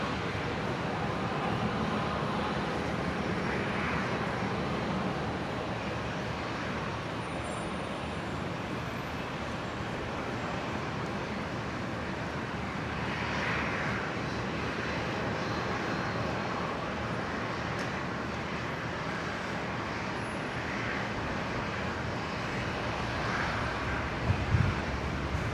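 A Boeing 787-9 airliner departing Brisbane for Auckland produces a broad, steady jet roar that holds at a constant loudness throughout, distant and unbroken, with no voices over it.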